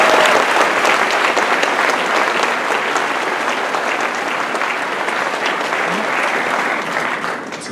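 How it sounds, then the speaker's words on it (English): Loud, sustained audience applause at a high school graduation ceremony, a thick steady roar of many hands clapping from start to finish, tapering just slightly near the end. "So if we can get a round of applause for everybody"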